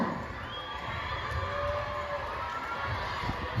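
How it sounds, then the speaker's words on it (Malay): Students cheer at a school sports day during an 800 m race, a broad wash of shouting and cheering from a crowd at some distance, steady and unbroken, with no clear speech on top. "Ayo sama-sama kita berikan sorakan."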